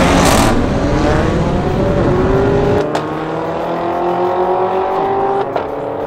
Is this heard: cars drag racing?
yes